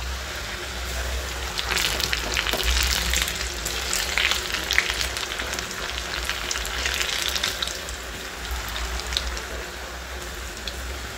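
Food frying in hot oil for a batch of crispy okra (bendi) bites, a steady dense sizzle and crackle running close and loud throughout with no talking.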